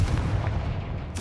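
A Confringo fire spell blasts in Hogwarts Legacy, a short booming burst with a crackling rumble, followed by a sharp bright crack near the end; no talking.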